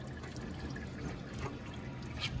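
Engine oil drains steadily out of a Ford 8N tractor in a continuous, even trickle that holds at a constant low level from start to finish, with no voices.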